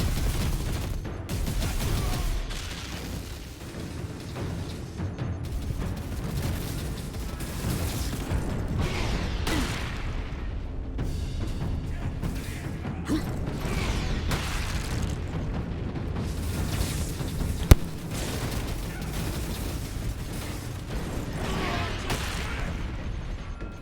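An explosion in the video game Warhammer 40K: Space Marine, set in a manufactorum, bursts out of a dense, steady din of combat, clanking machinery and rumbling effects that never lets up.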